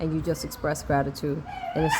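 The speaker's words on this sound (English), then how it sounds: "sorry for the barking" A dog yips and whimpers in short bursts close by, mixed in with a person talking steadily.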